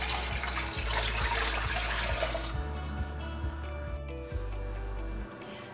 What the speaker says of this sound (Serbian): Nalit ćemo sve vodom.